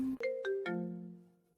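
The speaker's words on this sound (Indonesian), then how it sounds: "Tunggu, aku harus angkat telepon." A phone ringtone plays a few bright, descending melodic chime tones, loud and close, with no talk over it, then fades out.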